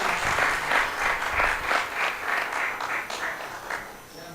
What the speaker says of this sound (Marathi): कृपया टाळ्यांचा गडगडाट थोडा कमी वाटेल मला.